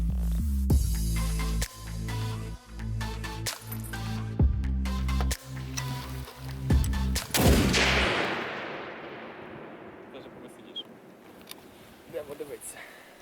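A sharp, heavy blast from an F1 hand grenade detonating against body armour on a test dummy, with a long rumbling decay trailing off after several earlier thumps and clatter.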